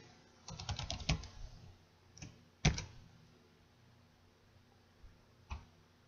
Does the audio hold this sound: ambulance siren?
no